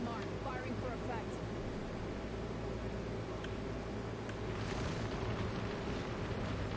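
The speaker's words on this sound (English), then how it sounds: "I will be able to use this ultimate, which essentially is an airstrike." Bangalore's airstrike ultimate in the Apex Legends video game, a dense continuous roar of rumbling explosions filling the whole stretch, loud and unbroken with no clear gaps.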